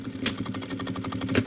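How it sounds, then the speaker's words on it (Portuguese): A sewing machine stitches quilted fabric for a small pencil case, giving a rapid, regular mechanical chatter with steady needle pulses, close up and without talk. "eu vou costurar só um pouquinho aqui, ó"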